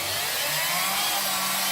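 A homemade CNC router spindle powered up through an RPM controller gives a steady, loud, high-pitched whine with an even motor hum beneath it, running alone with no one talking.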